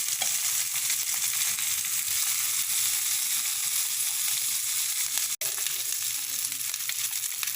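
Mutton chops fry in a pan with a steady, dense sizzle that fills the whole stretch, with one brief sharp break partway through and no talking.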